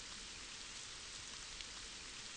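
Rain in a video game hisses as a steady, faint wash of broadband noise with no distinct drops or other sounds over the short stretch.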